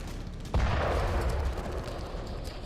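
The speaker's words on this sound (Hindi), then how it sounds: "रूस की आर्टिलरी आग बरसा रही।" Russian artillery firing in the war in Ukraine, a single heavy boom with a low rumbling tail rolling out over a dense, noisy battlefield background.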